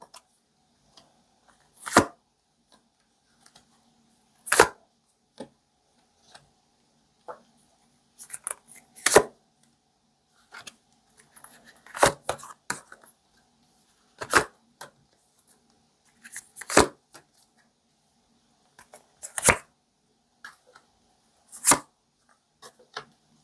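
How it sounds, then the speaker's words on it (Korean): Tarot cards being shuffled and drawn indoors, heard as sparse, crisp slaps and riffling snaps spaced a few seconds apart against near silence. "우리 2번님 카드 뽑아볼게요."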